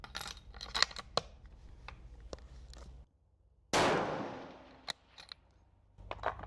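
A rifle fires a single loud, close blast at an outdoor shooting range and then rings out as it decays, surrounded by lighter metallic clicks and clinks from handling gear.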